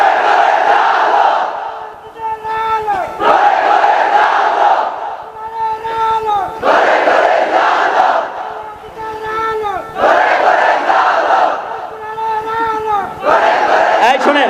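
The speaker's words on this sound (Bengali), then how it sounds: "জোরালো তাকবীর দিতে হবে" A large crowd at a religious sermon shouts takbir (Allahu Akbar) in unison, five loud chanted bursts in a regular rhythm with short pauses between them.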